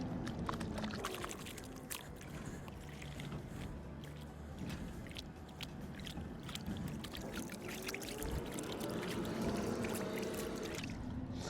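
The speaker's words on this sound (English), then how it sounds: "I like to just pour it out of the black bucket here, or the black tray" Water pours and splashes out of a black bucket outdoors in a continuous, fairly loud wash with gurgling and trickling, with a low mechanical rumble in the background.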